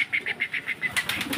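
Pigeons flap their wings in a rapid rhythmic burst of soft whooshing beats, close and fairly loud, with no voices over them.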